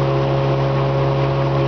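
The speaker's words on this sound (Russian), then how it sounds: "мотолодка начала решительно прибавлять скорости" A motorboat with an old Finnish Terhi 23 hp outboard motor runs at a steady, loud, even drone with no audible change in pitch and no voices.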